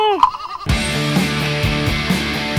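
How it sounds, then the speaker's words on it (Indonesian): Goats and sheep in a village in Banten bleating: a brief call, then a loud, sustained wavering bleat with pulsing rhythm, close to the listener and with no talk. "Kambing dan domba di sini ada banyak sekali"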